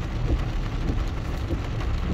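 Rain falls at the central beach in Itapema, Santa Catarina, on a wet end-of-year day, a dense, unbroken hiss of drops with a low rumbling undertone, steady and fairly loud, with nobody speaking.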